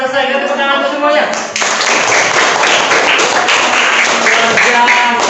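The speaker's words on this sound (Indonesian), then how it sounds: "Kita tepuk tangan untuk semuanya." Classroom applause for all the student groups after a group activity, a dense burst of many hands clapping that swells after the first second and continues steadily, with children's voices mixed in.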